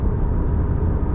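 Road noise inside the cabin of a 2020 Honda Accord Hybrid while driving, a loud, steady low rumble with broadband tire hiss, continuous throughout.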